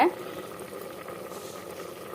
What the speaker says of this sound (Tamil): புளியெல்லாம் கரைச்சி ஊற்றி குழம்பு சூப்பராக கொதிக்குது பாருங்கள்